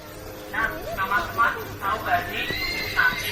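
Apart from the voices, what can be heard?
horse neighing at a farm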